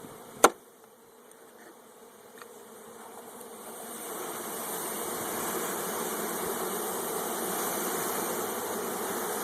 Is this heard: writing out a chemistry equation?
no